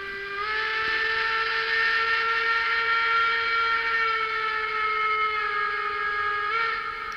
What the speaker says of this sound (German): Das war also der lange Pfiff